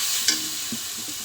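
Jackfruit and potato dropped into hot spiced oil set off a sustained sizzle, with a brief splash as they go in and a few soft stirring scrapes after.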